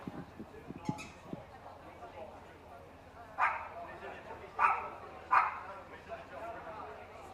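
A Parson Russell Terrier at a championship dog show gives three sharp, fairly close barks in quick succession midway through, over a murmuring hall and people talking.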